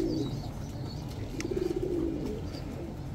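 Pigeons coo in the background near a poultry area, with one soft, rolling coo phrase rising midway through. It sounds moderately distant over a low, steady ambient rumble, with no talking.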